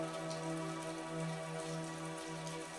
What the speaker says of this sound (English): Rain poured relentlessly, threatening to damage the delicate grapevines.